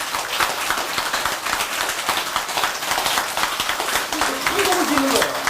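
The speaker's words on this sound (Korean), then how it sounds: "당장 이 법상 스님을 위해서 박수 하나 신나게 쳐주는 것도 있어요." An audience claps for a monk at a Buddhist temple service on Buddha's Birthday, a dense, continuous patter of many hands, with a voice rising briefly near the end.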